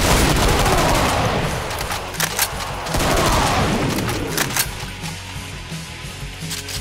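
Gunfire from a heavy weapon in Project Brutality for Doom, several loud bursts of rapid shots with booming impacts, coming in clusters with short pauses between them.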